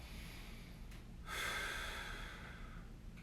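A single audible exhale during a kneeling quad and hip stretch, a soft breathy rush rising after a brief intake of breath, close and quiet against a low background hum.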